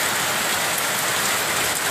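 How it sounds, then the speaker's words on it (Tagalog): Heavy rain pouring down steadily at a school during flooding, a loud, dense continuous wash of drops on surfaces with no letup and no voices. "At hindi po tumitigil ang lakas ng ulan ngayon."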